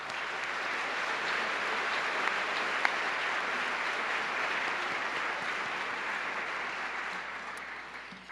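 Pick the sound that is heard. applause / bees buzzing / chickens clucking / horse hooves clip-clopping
applause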